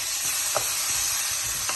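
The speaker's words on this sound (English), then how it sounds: "you can see it start to sizzle" Steady, bright sizzling of lentil and vegetable curry frying in a hot pan, continuous and close, with a couple of faint clicks of stirring.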